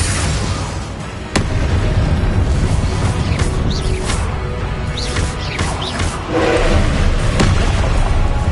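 Spell-blast explosions in Hogwarts Legacy boom loudly with sharp onsets, one standing out early, followed by rumbling magical effects and further blasts in a dense, busy mix.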